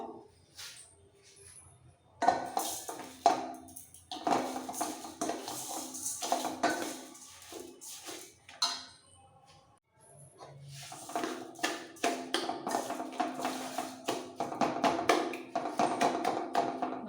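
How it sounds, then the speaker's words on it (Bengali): Chhena dough with baking powder being mixed in a bowl, with uneven scraping and clinking of a spoon or hand against the dish in irregular bursts and short pauses between. "এবার ভালো করে মিক্স করে ফেলবো"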